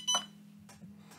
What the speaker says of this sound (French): Et il fait bip bip.